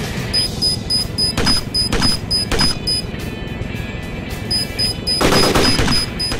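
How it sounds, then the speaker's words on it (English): Repeated high electronic beeps of an anti-aircraft missile launch in the game ARMA 2: Operation Arrowhead pulse in short bursts over a rumbling background, interrupted by several loud blasts. "That beeping sound is the launch of an anti-aircraft missile."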